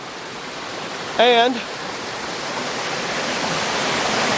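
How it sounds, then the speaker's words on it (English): Water rushes steadily in a broad, even roar at the top of a falls, heard from up close and continuing alone apart from one brief spoken word. "I'm at the top of the falls right now"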